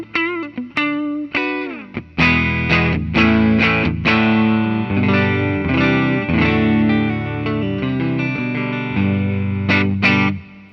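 Gibson Les Paul Professional electric guitar played through an amp turned up to 10, loud distorted chords and riffs with sharp picked attacks and ringing sustain, no voices.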